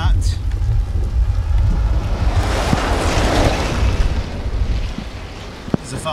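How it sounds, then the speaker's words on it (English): Strong gusting wind during a storm chase in Yorkshire roars loudly across the microphone, a constant buffeting rush that swells and eases for several seconds, with a voice talking over it. "the wind really picked up"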